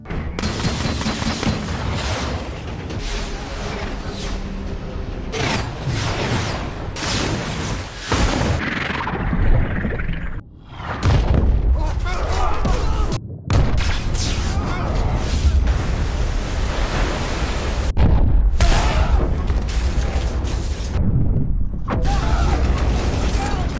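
Loud, dramatic explosions and rumbling booms with mechanical clanks and debris, like a cinematic missile blast, heavy and continuous with brief gaps.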